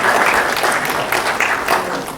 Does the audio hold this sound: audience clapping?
yes